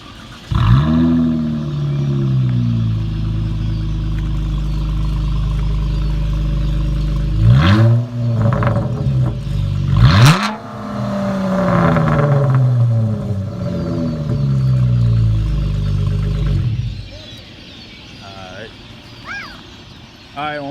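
A 2014 Hemi Challenger R/T with straight-pipe exhaust cranks and fires, then idles with a loud, deep burble and gives two or three sharp revs before settling, close up, with people talking over it.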